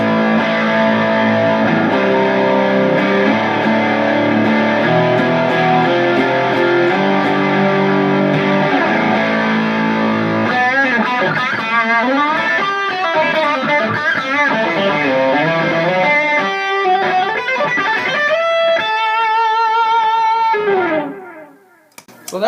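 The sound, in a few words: electric guitar through a Jet City distortion pedal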